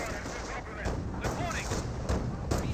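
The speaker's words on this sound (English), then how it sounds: "Sticky Bomb does connect there on the 2-3-4." Explosions and thumping blasts from Company of Heroes 1 as a sticky bomb hits a 234 armored car, several sharp booms over battle noise while a commentator talks throughout.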